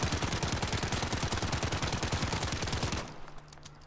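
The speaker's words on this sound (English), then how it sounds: "Again, it's hip firing." Rapid, evenly spaced hip-fire gunshots from a rebuilt gun in Call of Duty Modern Warfare, a loud sustained automatic burst that cuts off, leaving a faint ringing tail.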